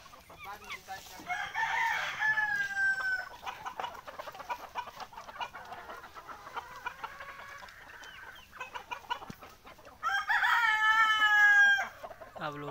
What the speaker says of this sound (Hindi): ये टोटल 120 मुर्गा मुर्गी है